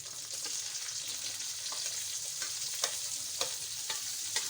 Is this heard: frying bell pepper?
yes